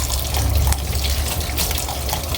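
Cold tap water runs steadily over rainbow-colored Japanese somen noodles being rinsed, a continuous close hiss and splash with no talking.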